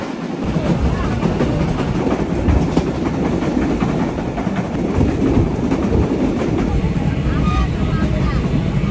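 Ride on a train, a loud steady rumble and rattle of the moving carriage heard from inside, with rhythmic clatter and people talking over it.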